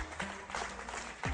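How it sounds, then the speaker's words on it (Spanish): Church congregation applause, a faint, distant wash of clapping that holds steady throughout, with a brief voice near the end. "Denle un aplauso al Señor"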